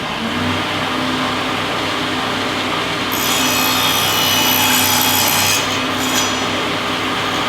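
A wooden board being sawn to 18-inch length while building a large covered platform bird feeder, a steady hand-saw rasp that grows louder and brighter partway through, continuous strokes with no talking.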